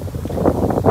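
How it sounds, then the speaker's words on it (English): Strong wind blowing outdoors near a hotel in Wichita, buffeting the microphone in steady low gusts with rising and falling rushes, close and fairly loud, with no talking. "It's very windy."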